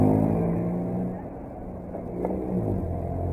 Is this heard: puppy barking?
no